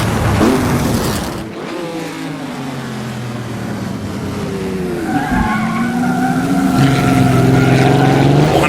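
Mercedes Silver Arrows race car driving around the Battenberg circuit, a loud close engine with shifting revs and gear changes while the car slides through a corner, with tire squeal and no talk.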